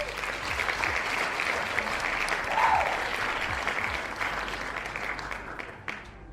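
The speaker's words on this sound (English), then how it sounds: "Claps all around for chat." Sustained applause from a crowd, steady and fairly close, holds for about six seconds and then tapers off near the end.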